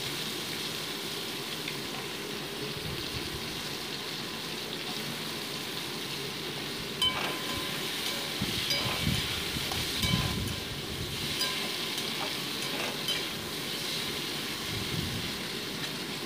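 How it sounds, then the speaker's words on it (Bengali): Potato pieces fry in a pan for a prawn and banana-flower ghonta, giving a steady soft sizzle throughout with a few louder crackling bursts in the middle. "আলু টুকরোগুলোকে ভালো করে একটু ভেজে নিচ্ছি আমি।"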